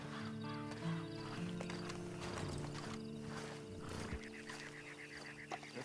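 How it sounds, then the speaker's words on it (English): A horse in Red Dead Redemption 2 sounds faintly, with soft hoof clops and a brief whinny under sustained game music. "Then you better get on this horse."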